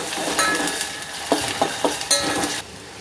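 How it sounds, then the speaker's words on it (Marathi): A ginger, garlic, coriander and green chili paste is mixed in a pan for egg curry, with a soft sizzle under several quick, close clinks and scrapes of a spoon against the pan, ending abruptly. "त्याला मी आता व्यवस्थित मिक्स करून घेणार आहे"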